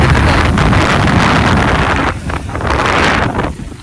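Strong wind buffets the microphone on a boat crossing to Analai Island off Jaffna, a loud continuous roar with waves and engine rumble beneath, dipping briefly before swelling again.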